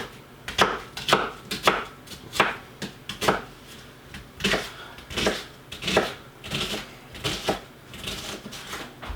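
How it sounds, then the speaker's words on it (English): A knife chops an onion on a board in quick rhythmic bursts of sharp, close knocks separated by short pauses, with no talking. "I am almost done cutting up my onion."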